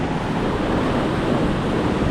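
River rapids rush in a dense, continuous roar of turbulent water, loud and close, with a constant wind-like wash and no speech over it.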